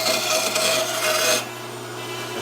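Wood being cut on a scoter duck decoy as the knob is removed before shaping the breast, a steady close rasping that runs for over a second and then drops to a softer, fainter scrape.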